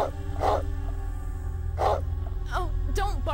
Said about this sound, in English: Oh, don't bark so much.